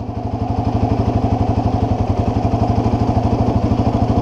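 A 700cc quad ATV pulls away as its clutch is released, the engine chugging in a steady, fast low thump that stays loud and close throughout, with no talk.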